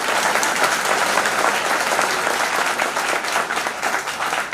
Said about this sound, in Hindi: एक बार चाहेंगे हमारी श्रीमती जी के लिए जोरदार ताली।